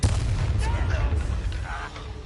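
Bombarda spell explosion in the fantasy game Hogwarts Legacy, a loud booming blast with rumbling low end that sustains through the moment, layered with other game effects and faint background music.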